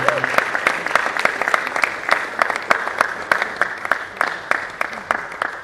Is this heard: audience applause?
yes